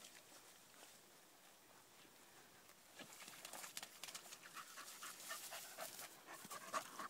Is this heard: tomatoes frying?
no